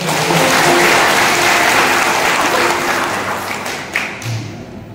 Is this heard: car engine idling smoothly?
no